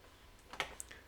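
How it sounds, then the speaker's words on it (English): A computer mouse gives a few quick, faint clicks in a quiet room, a sharp tap followed by a second lighter one. "I'm going to do that by clicking on the conclusion"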